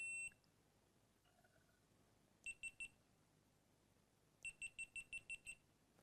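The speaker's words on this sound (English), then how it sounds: "That's the sound of the end of the GoPro that was over there filming me" Two bursts of high electronic beeps from a GoPro with a dying battery: three quick chirps, a pause, then a longer run of about seven evenly spaced beeps, fairly faint in a quiet room.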